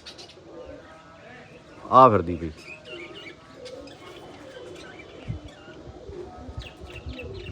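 A pigeon cooing in soft, low calls around a loft while someone talks throughout, with one sharper burst near the start.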